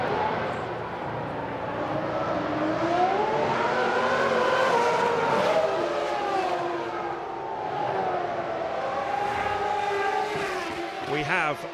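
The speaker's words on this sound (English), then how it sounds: "There are the race leaders just forming up behind the safety car." Formula One race cars at the 2006 Australian Grand Prix in Melbourne running in a bunch behind the safety car, engine notes rising and falling in overlapping pitch sweeps at moderate distance, with a continuous background rumble throughout.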